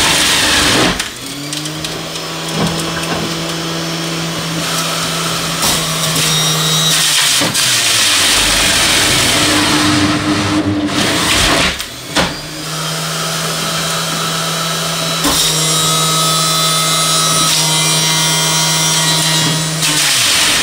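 A three-speed vegetable juicer runs in third gear with a loud, steady motor whine, briefly interrupted around the middle as it strains and restarts, then continuing at full speed to the end.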